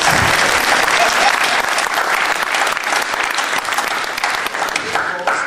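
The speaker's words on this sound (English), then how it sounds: "So therefore we have a round of applause." Audience applause at a live panel game session at a conference, broad and sustained, loud and even for over five seconds, with a voice speaking over it.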